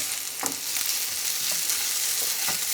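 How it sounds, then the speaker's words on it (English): Onions caramelizing in a pan with a steady close sizzle, broken by several soft scraping strokes of a spoon or spatula stirring them. "Give that a stir."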